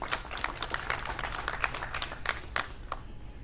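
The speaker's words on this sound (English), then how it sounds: "Let's give a round of applause for that." Audience applause at an announcement of funding for Tribal communities, sustained clapping with sharp individual claps standing out, fairly close and without speech.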